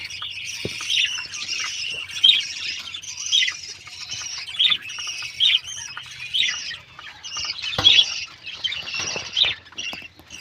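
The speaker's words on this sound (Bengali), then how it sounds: "এই যে আমাদের আর এক জোড়া হলুদ পাখি এই যে একটা খাবার খাচ্ছে" A pair of yellow pet birds squawk and chirp while eating, repeated sharp calls coming every second or so, close by with faint rustling and no talking.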